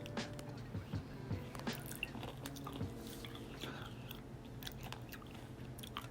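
Close, quiet biting and chewing of peanut butter vanilla yogurt with crunchy granola, with soft wet mouth sounds and small crunches throughout.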